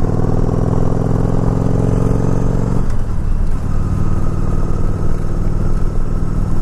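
A Yamaha V-Star 1100 motorcycle engine running steadily, a loud, close, throbbing low rumble that shifts to a rougher, changed tone about halfway through, with no talking.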